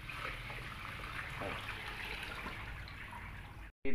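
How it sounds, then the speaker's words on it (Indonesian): Water poured from a watering can onto rice seedlings sprouting without soaking, a steady close trickle and splash that runs continuously, then cuts out briefly near the end. "Nah, seperti ini menyiramnya"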